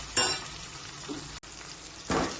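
Tomato, onion, garlic and chili sautéing in a pan for Kathiyawadi kadhi give a steady close sizzle. Two louder bursts of frying hiss rise as the mix is stirred, with no voices.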